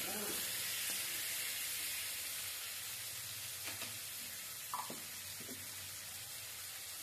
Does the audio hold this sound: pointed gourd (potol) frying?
yes